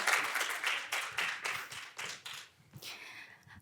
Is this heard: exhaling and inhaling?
no